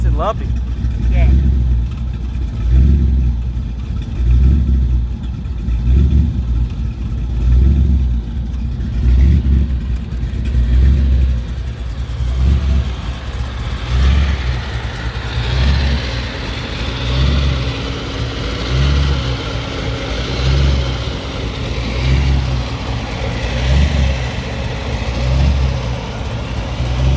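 Close and loud, a 1932 Ford hot rod's supercharged 350 V8 with a 671 Weiand blower and dual quads rumbles in steady rhythmic surges, swelling into louder revs partway through as people talk nearby.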